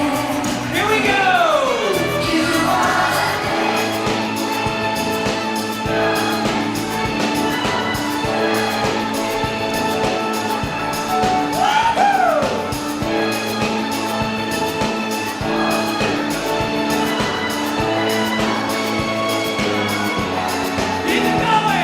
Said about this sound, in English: I need every person in this stadium singing as loud as you